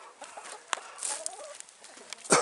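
Chickens cluck softly inside a bear-proof wooden coop in winter, with faint scattered clucks and rustling at a low level.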